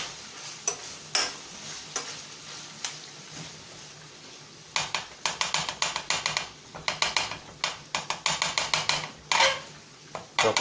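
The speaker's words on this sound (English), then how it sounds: "Chop away that a little bit, break it up." A utensil chops and breaks up garlic in a hot pan, giving quick clattering taps in irregular bursts over a faint sizzle, close and with no talk.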